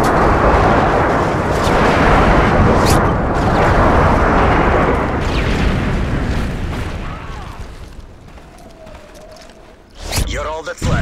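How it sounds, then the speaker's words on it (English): Airstrike explosions in the Modern Warfare 3 video game, played on PS3: a loud, sustained rumble of heavy blasts that fades toward the end, followed by a short burst of sharper noise. "Friendly airstrike on the way."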